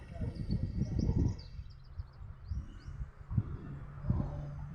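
Birds chirp and twitter high and faint above low rumbling on a hot afternoon among coconut trees in Bohol, with short bursts of thin calls partly masked by nearby voices.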